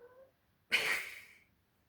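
A single drawn-out cat meow, close and clear, rising sharply and fading over about half a second, preceded by a faint short vocal sound and then quiet.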